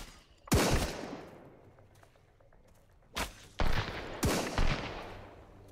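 Gunfire in the survival shooter game Sunkenland: a loud single shot, a quiet pause, then a rapid cluster of several sharp reports with ringing tails, close and punchy.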